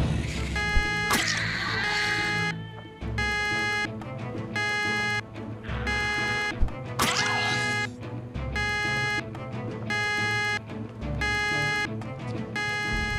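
Car alarm blaring in the Project Zomboid game, a loud electronic tone cycling in regular on-off pulses for the whole stretch, broken by two sharp swooping sweeps, close and steady with no voices.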